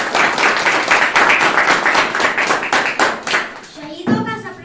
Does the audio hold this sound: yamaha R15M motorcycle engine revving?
no